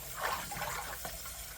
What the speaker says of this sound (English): Let's get some fresh water in here.